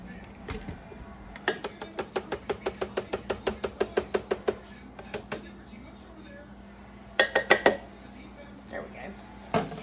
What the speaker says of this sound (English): We're going to put our cannellini beans in here.